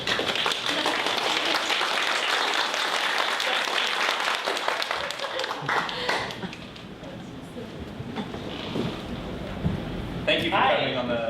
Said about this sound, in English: let's go ahead and slap that applause button, Jeffrey